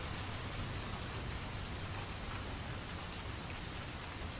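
Steady, dense rainfall on a stormy night in a cartoon sound effect, a continuous even hiss of drops with no pauses or voices.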